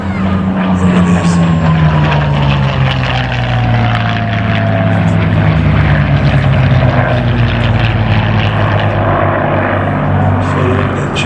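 A Hispano Buchon, the Spanish-built Messerschmitt Bf 109, flies past at a warbird air show, its propeller engine droning loudly with a falling pitch as it passes, the sound steady and close throughout.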